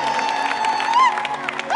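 A large crowd at a nighttime worship event in Uhuru National Stadium claps, cheers and ululates, with wavering high trills riding over steady, loud applause.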